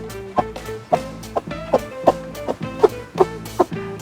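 Low, regular clucks come from a calm broody hen settled on a clutch of hatching eggs. The pulses are close and moderately loud, spaced about every half second.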